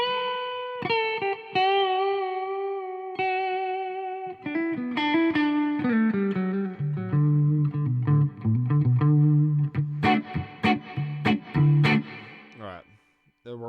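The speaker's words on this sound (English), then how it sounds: "let's make it a good spring reverb." Clean electric guitar through a Marshall Code 50 amp with spring reverb, playing single notes then chords and strums, each tail ringing and splashing before it fades; sustained and fairly loud, no talking over it.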